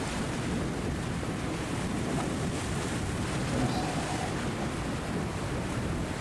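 A fishing boat from Phú Yên cruises slowly out to sea, with a loud, constant wash of waves and wind rushing past, steady and close.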